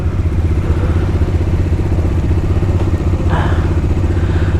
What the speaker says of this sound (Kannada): ಡಾಮಿನರ್ ಅವರು ವಾರ್ಮಪ್ ಮಾಡ್ತಾಯಿದ್ದಾರೆ.